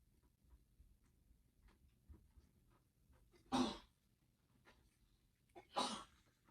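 Two quick, sharp sneezes, a couple of seconds apart, break through a quiet room with faint ticking in the background during a crochet session.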